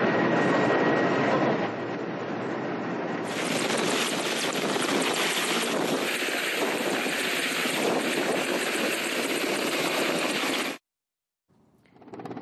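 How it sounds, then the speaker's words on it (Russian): An Mi-8 helicopter hovers over boulders in the Altai mountains, a loud, steady rotor and engine roar that fills the sound for about ten seconds before cutting out abruptly. "Вертолету пришлось буквально зависнуть над валунами, пока спасатели добирались до раненого и несли его к машине."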